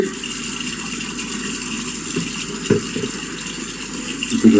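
Tap water gushing steadily into a sink while a de Buyer pan is washed out, with occasional clinks and knocks of the pan under the stream.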